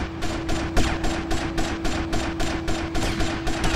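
Rapid automatic gunfire in Grand Theft Auto: Vice City, a steady loud burst of repeated shots with an even rhythm and a constant tone humming underneath.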